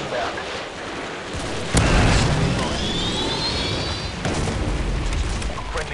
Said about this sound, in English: Predator missile ready for deployment. Friendly Predator missile